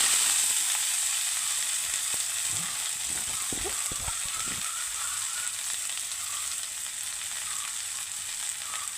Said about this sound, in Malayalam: അരിഞ്ഞ് വെച്ച ചീര നമുക്ക് ഇട്ട് കൊടുക്കാം.